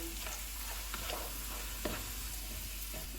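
Steady crackling sizzle of whole spices frying in hot oil, with a few soft scraping stirs breaking through now and then.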